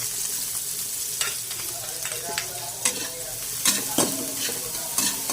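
Garlic frying in a pan for sinigang sa miso, with a steady close sizzle broken by scraping stirs and occasional sharper clacks of the utensil against the pan.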